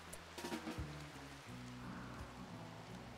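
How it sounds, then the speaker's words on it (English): Steady rain in RimWorld pattering on a surface, a dense even hiss with low rumbling tones underneath, no voices. "It's raining too, which just makes it worse."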